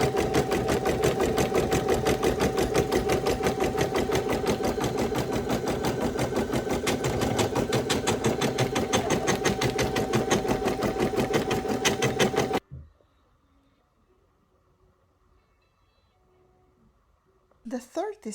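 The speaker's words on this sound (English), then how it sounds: "now I am ready to take this to the embroidery machine and start embroidering" An embroidery machine stitches a Christmas design onto a plain towel, a loud fast rhythmic whirring and clatter that runs steadily, then stops abruptly, leaving near silence before a brief knock at the end.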